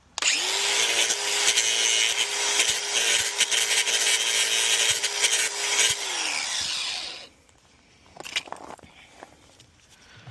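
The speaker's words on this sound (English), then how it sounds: "So what I'm doing here is cutting off some tabs that held on the backing plates" Power tool cutting metal tabs off a steering spindle for an angle kit build, a loud steady whining grind with a tonal hum for about seven seconds, then stopping and leaving quieter scattered clanks and handling noises.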